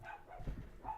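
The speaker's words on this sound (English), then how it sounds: "Sorry if you hear the dog barking." A dog barks a couple of times in the background, faint and distant, with short yelping bursts at the start and end of a quiet moment.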